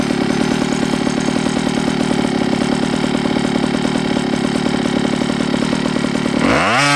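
A 46cc 12hp OBR gas engine with a silenced pipe runs loudly in a 4x4 concept truck, idling with a steady rapid buzz before revving up sharply at the end.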